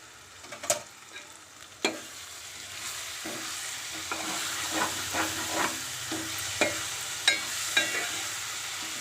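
Potato and brinjal curry being stirred in a pan, a low steady sizzle with repeated spoon scrapes and taps recurring at a loose, regular pace, fairly close.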